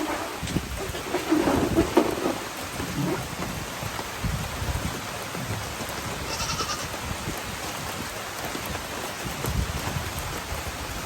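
Steady rain patters throughout while low rumbles of thunder roll in the background, moderately quiet with no talking.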